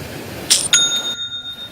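A small bell sound effect gives two quick bright dings, the second ringing on with a clear sustained tone before cutting off abruptly.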